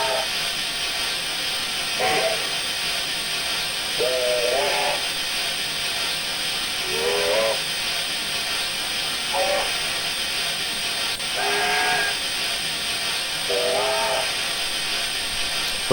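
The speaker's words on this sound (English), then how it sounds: "our short whistles on the fireman side." Short steam whistle toots from a New Zealand Kb 4-8-4 steam locomotive in Train Simulator Classic, about seven brief rising two-tone blasts spaced every couple of seconds over a steady loud hiss of steam.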